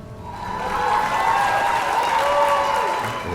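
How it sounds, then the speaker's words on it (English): A concert audience gives loud, sustained applause at the end of a solo piano tune, a dense wash of clapping that holds steady throughout without speech. "loud, lengthy applause."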